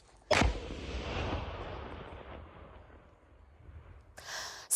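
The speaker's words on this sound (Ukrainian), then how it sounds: "Боєприпас знищили на місці контрольованим підривом." One sharp blast from a controlled detonation of a munition bursts out, its rumble trailing off over a few seconds, then a brief noise near the end.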